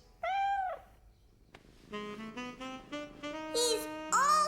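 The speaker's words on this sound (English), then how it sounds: "He's purring. That means he's happy." A cartoon kitten meows loudly in rising and falling tones, then purrs happily while being petted, the sound close and clear with no talk over it.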